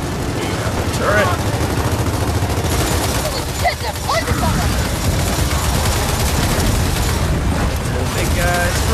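A mounted turret in Gears of War 4 hammers out dense, continuous heavy gunfire with booming impacts, loud and close throughout while voices talk over it.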